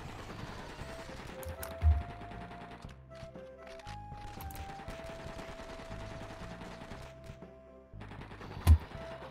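Rapid bursts of automatic gunfire in the video game Blood and Bacon crackle over a droning background, with a couple of sharper sudden shots standing out.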